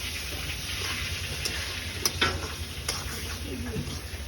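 Catla fish bladder and roe fry in hot oil with salt and turmeric, a steady close sizzle with occasional stirring scrapes and light clinks, no talking over it.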